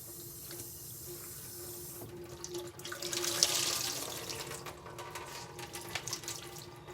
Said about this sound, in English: And I'm just going to rinse it out, and it's clean and it's ready for me to use the next time.